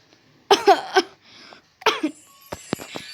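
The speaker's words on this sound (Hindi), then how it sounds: "क्यों खांस रहे हैं आप?" A man coughs at close range in two harsh, repeated bursts, each a cluster of three or so rough hacks, followed by a few faint clicks and a quiet tone.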